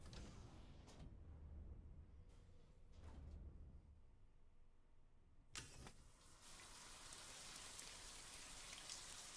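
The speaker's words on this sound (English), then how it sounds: "Rain." Steady rain from the Death Stranding video game, a dense broadband hiss of drops on surfaces that runs the whole time and thickens in the second half, with a few brief sharper knocks along the way.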